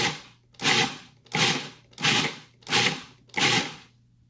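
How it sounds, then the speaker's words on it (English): A food processor grinding oats into flour in short pulses, five loud bursts of whirring blade noise evenly spaced about 0.7 seconds apart, with a faint steady hum between them. "grind up the oats into a flour-like consistency. I've got a double batch, so I'm using a food processor"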